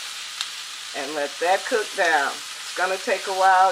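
Chopped onions sizzling and frying steadily as they cook down in a pan for corn bread dressing, a constant hiss running beneath a person talking close by.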